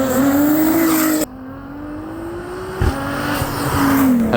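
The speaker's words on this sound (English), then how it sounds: "This is my 2009 Nissan R35 GTR" Engine note from a tuned 2009 Nissan R35 GT-R rising in pitch, dipping briefly, then climbing again through successive revs, loud and close with no talking.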